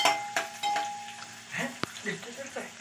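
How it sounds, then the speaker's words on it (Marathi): Mustard seeds, cumin, onion and garlic sizzle and crackle steadily in oil in a pan, tempering masoor dal, with a sharp clatter of utensils and faint voices nearby. "डालीला डाल बनवतोय मसूरची डाल आहे डालीला फोडणी मारतोय"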